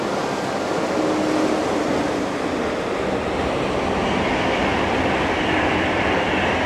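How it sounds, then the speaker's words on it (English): A steady, loud rumbling roar with broad noise throughout, a train rolling past close by a canal lock, heard from a narrowboat, continuous without pauses. "Can't believe how close we are to the trains."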